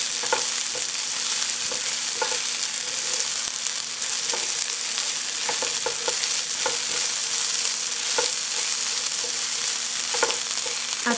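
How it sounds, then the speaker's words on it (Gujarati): Okra and mild Anaheim peppers fry in a pan with a constant loud sizzle. Sharp scraping stir strokes come at irregular intervals, with no talking. "આપણે હજી જરાક આને તળશું"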